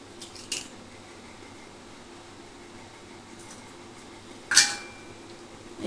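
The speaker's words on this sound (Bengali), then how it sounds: "এই ডিমটা আমি ফাটাবো।" A single egg cracks sharply near the end of a quiet stretch during fish batter fry preparation, one close crisp snap after a faint earlier clink over low room hum.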